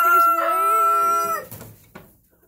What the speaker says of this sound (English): Oh, I got a rooster that got loose somehow.